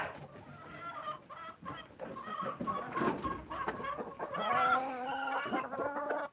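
Chickens cluck and chatter continuously nearby, several birds overlapping in a busy, rhythmic flock murmur.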